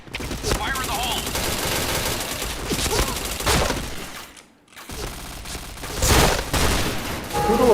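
Bursts of rapid automatic gunfire and single shots in a shooter video game, loud and dense, with a short silent gap midway before more firing resumes.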